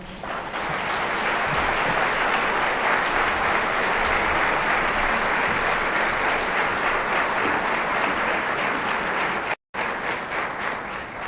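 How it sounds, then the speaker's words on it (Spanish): A large audience applauds loudly for a speaker introduced as director of a Gnostic monastery in Malinalco, Mexico, with steady dense clapping that holds for about eleven seconds and breaks off briefly near the end. "Brindémosle un fuerte aplauso."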